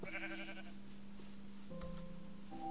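Sheep in Minecraft bleating close by, a wavering call followed by a couple of shorter bleats at shifting pitch, with no talking over them.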